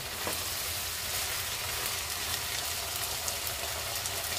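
Steady close sizzle of menudo ingredients sautéing in a pan, a dense continuous frying hiss with slight crackle and no voices.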